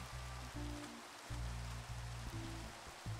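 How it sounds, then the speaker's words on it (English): Steady video-game rain hissing on surfaces, a constant wash of patter with low tonal game sounds pulsing underneath and no talking. "It's raining."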